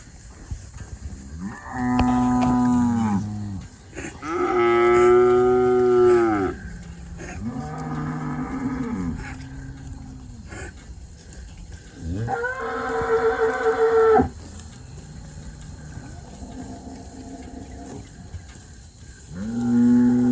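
Cattle on a ranch moo several times in long, loud, drawn-out calls, some deep and some higher, with quiet pauses between them.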